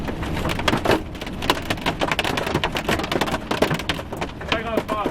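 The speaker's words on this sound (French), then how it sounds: "nous faire bombarder de grêle de 6 cm de diamètre" Dense, irregular clattering of hard impacts drums rapidly and loudly on a nearby car, like a heavy hailstorm pelting metal; hailstones about 6 cm across, in Tornado Alley.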